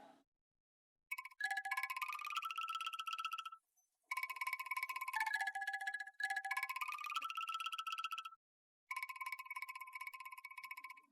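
A mobile phone ringtone plays a bright, stepped melody that repeats in three bursts separated by short silences. It is clear and moderately loud, with no talking.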